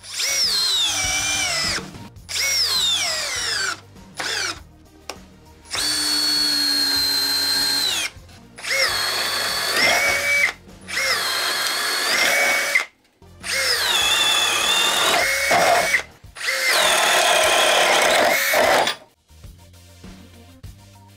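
A $99 cordless power drill whining through repeated runs, each burst revving up and holding a high motor tone before stopping, with short silent gaps between them, loud and close, no voices.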